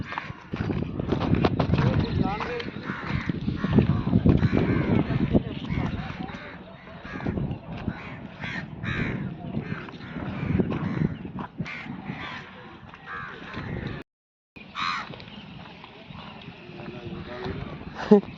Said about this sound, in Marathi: गोदावरीमध्ये खूप कावळे सर